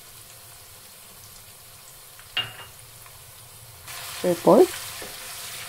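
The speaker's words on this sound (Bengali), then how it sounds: "এই মশলাটাকে একটু সময় নিয়ে তেলে ভেজে নেব।" Ginger, onion and garlic paste hits hot oil for a beef bhuna, bursting into a close sizzle in the last two seconds after a few quiet clinks, with one brief spoken word.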